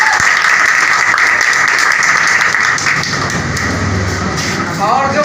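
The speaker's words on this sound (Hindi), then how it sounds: "तालियां फिर से।" Audience applause at a school essay-competition medal ceremony, dense sustained clapping from a crowd that dips briefly and then swells again, with a voice speaking near the end.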